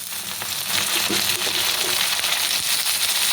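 Onions sizzle and fry in oil in a pan, a steady bright crackling hiss with a few faint scrapes and taps, loud and close with no talking.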